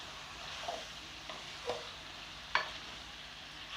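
Chicken sukka frying in a pan while being stirred, with a soft continuous sizzle broken by a few scraping clinks of the spoon against the pan, close and fairly quiet with no talking.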